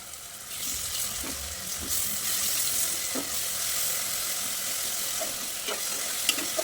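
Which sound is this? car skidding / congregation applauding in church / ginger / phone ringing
ginger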